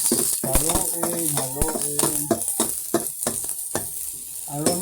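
Onions frying in a pan for corned beef with potatoes as a spoon stirs them, a sizzle under repeated scraping knocks while a person talks over it.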